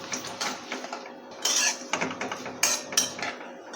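A spoon scraping and clinking against a metal pan while cumin, carom seeds and white sesame are stirred in hot oil, with irregular close metallic knocks and scrapes, louder in a few sharp bursts.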